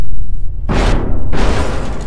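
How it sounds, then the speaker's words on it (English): A bomb blows up on a ship in People Playground, a loud booming blast with a low rumbling roar that swells, dips briefly, then surges again under heavy noise, with no talking. "Oh my god, this will be a big explosion."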